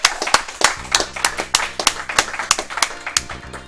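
A handful of hands clapping in an uneven rhythm at a speedrunning event, sharp close claps over a low background hum, no voices.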